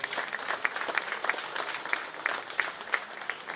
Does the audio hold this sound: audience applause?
yes